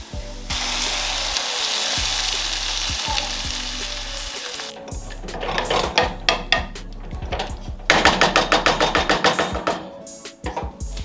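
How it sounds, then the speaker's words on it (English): Diced tomatoes fry in a skillet for a vegetable curry: a loud sizzle first, then a rapid run of scraping stirs, with a low steady hum running beneath most of the clip. "So next I'm going to be putting some diced tomatoes"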